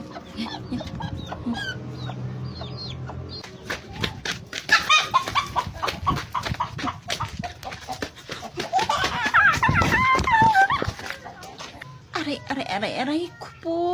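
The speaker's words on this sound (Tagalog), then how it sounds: "Ayan yung manok." A chicken clucks repeatedly at close range while people talk and exclaim over it, voices often overlapping the bird.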